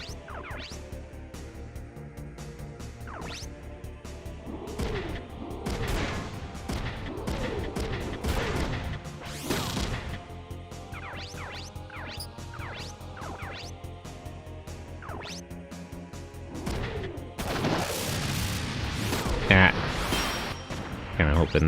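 Missile strike in Front Mission 3, with a series of booming impacts and bursts layered over game music, building to a denser, louder barrage near the end while a voice talks over parts of it.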